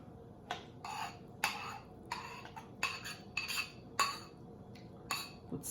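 A utensil scrapes and clinks against a bowl while coleslaw of carrots and red cabbage is mixed with sauce, a dozen or so sharp irregular taps and scrapes, close and clear with no talking.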